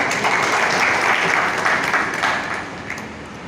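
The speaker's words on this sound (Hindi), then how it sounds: "इनके लिए एक बार तालियां" A crowd at an Agrawal community committee meeting in Chikhli, Maharashtra, gives a sustained round of loud clapping that stays dense and steady before gradually thinning out toward the end.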